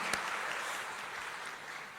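Audience applause for children from the Santa Monica parish choir after their song at a comedy stand-up event, a dense, steady wash of clapping held at an even level throughout.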